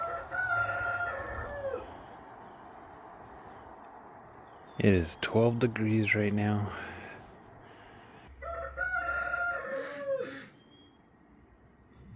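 A rooster crows outdoors in snow at 12 degrees, one loud close crow in the middle, with other fowl clucking before and after while a person talks near the start and end.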